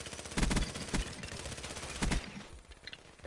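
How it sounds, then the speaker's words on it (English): Bursts of PPSh submachine gun fire in a video game with an extended drum magazine, two loud rapid volleys near the start and another around two seconds in, followed by quieter game sounds. "I pop my head out and I just shoot him"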